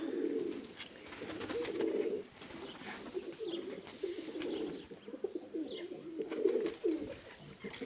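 Pigeons coo in a new coop, soft low throaty calls repeating in rounds at a moderate distance, with faint background noise and no talking.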